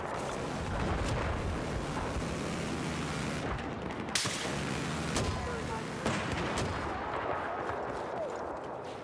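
L86 light machine gun fire in a Battlefield video game, a dense, continuous roar of gunshots and explosions with a few sharper bursts standing out, loud and close throughout.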